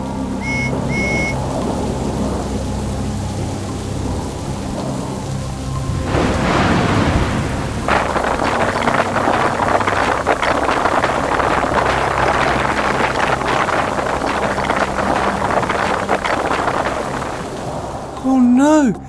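A thunderstorm rumbles through a toy construction vehicle play scene, with a loud steady rain wash and a thunder crash swelling in the middle, heavy and continuous throughout.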